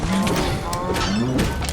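Cows lowing and mooing in Minecraft Dungeons as they are smashed, several moos in quick succession over steady game music and clatter.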